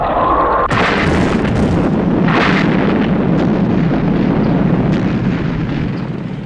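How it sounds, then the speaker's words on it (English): Missiles fired in an episode of the Thunderbirds TV series: a sharp launch burst followed by a loud, continuous rushing roar with further booms layered through it, no talk. "You've got to get that nose cone clear by firing the missiles."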